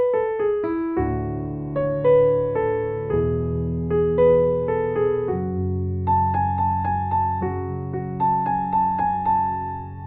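Piano playing a chord progression in open spacing, hands together, with sustained low bass notes under repeated mid-range chords in a steady rhythm, loud and close with no talking.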